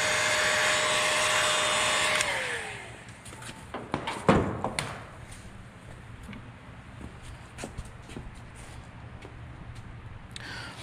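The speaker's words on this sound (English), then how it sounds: "if you take a heat gun and kind of warm up the housing a little bit" A heat gun blows steadily while warming a SkyTrax Phazer gearbox housing, then winds down with a falling whine, leaving a few close knocks and handling clunks over a quiet background.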